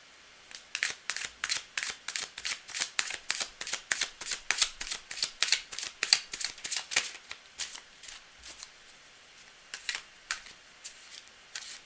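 Cards being shuffled in big chunky riffles and cuts for a live tarp-style reading, a rapid run of crisp snapping bursts that slows and thins out toward the end.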